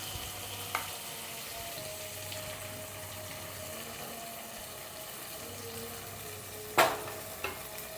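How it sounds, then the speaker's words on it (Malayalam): Tomato and ground masala paste sautéing in a pan for Kerala fish curry, a steady frying sizzle with occasional stirring and one sharp clink of a spoon against the pan. "നല്ല രീതിയിലൊന്ന് വഴറ്റിയെടുക്കാം"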